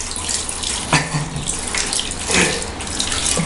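Water runs steadily from a tap while a white rabbit is bathed, a close, constant splashing rush with slight surges as the flow shifts.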